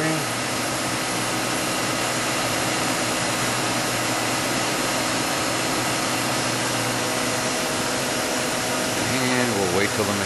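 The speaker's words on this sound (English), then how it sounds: "And the X-axis is now moving." A CNC machine's X-axis traverses toward its home position, producing a loud, steady, unbroken mechanical whir and hum that holds constant throughout, with a slight shift in tone near the end.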